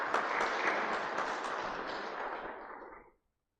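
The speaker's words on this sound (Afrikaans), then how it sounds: "Kom ons gee vir hulle 'n lekker hande klap." A church congregation at an Easter song service claps warmly together. The applause is dense and sustained, then fades and stops abruptly.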